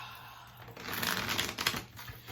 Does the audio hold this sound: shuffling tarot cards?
yes